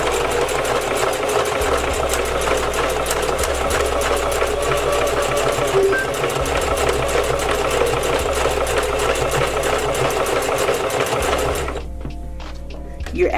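A sewing machine stitches hair weft tracks in a fast, steady mechanical whir with a rapid needle rhythm, loud and close, before slowing and stopping near the end.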